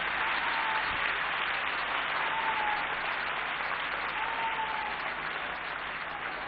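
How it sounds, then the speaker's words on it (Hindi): A legislative assembly hall erupts in loud, sustained applause that holds steady at full volume from start to finish, with no voices rising above it. "एक बार जोरदार तालियां पूरा सदन बजाए।"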